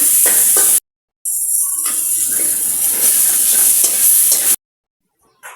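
Vegetables being stir-fried in a dry pan with no oil, a steady close scraping and sizzle that runs for several seconds with short silent gaps at either end.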